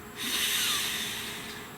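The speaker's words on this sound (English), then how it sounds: "Please take a nice deep breath." One deep breath, a single short, airy inhale that swells quickly and then fades, heard close and alone.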